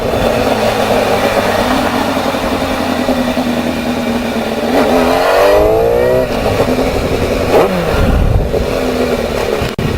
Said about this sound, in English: This exhaust is like obnoxiously loud.